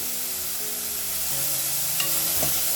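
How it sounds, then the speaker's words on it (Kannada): Curry leaves fry with garlic and tomato in a pan, making a steady dense sizzle with a light scrape or two, close and unbroken. "ನೋಡಿ ಇದನ್ನು ಕೂಡ ಫ್ರೈ ಮಾಡ್ಕೊಳ್ತಾ ಇದ್ದೀನಿ"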